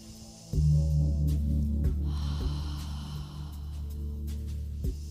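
A long exhaled breath during a yoga workout, heard alone and close over a steady background hum, with a couple of softer breathy sounds after it.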